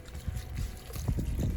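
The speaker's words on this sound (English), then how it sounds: "spray the blanket with water" Water is sprayed over a wet blanket being washed in a basin, giving short uneven splashy bursts and dribbles nearby.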